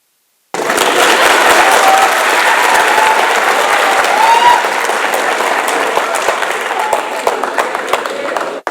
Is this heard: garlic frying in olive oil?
no